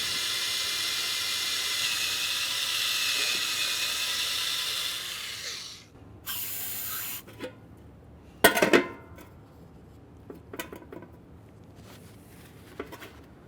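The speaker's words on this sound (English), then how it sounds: "We'll use parts cleaner and a bore brush for this." Parts cleaner hisses in a long spray into a brake caliper port on a 1998-2011 Ford Ranger. A bore brush then scrubs inside the port in a few short, sharp, nearby bursts, and no voice is heard.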